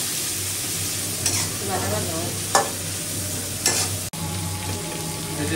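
Prawns fry in a pan with a continuous close sizzle, punctuated by a few sharp knocks of stirring and a low steady hum underneath, no voices.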